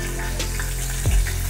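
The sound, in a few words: mustard seeds sizzling in hot oil in a kadai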